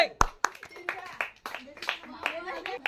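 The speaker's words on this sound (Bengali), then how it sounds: "হাততালি হবে" A short burst of hand clapping, with a few sharp separate claps at the start and then a scattered patter, mixed with talking voices, including children's, at a panipuri eating challenge.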